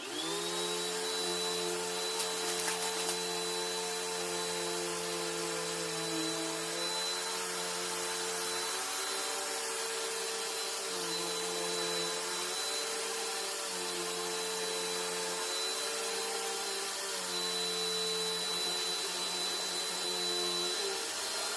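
A bagless vacuum cleaner runs continuously on fine dust, a steady close whine with a high-pitched tone, its pitch dipping slightly at times as it labors.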